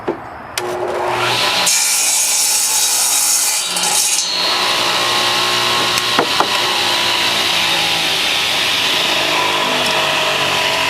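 A saw cuts through a piece of wood in a workshop. A loud, continuous rasping drone runs almost the whole time, with a short dip partway through and a few sharp knocks.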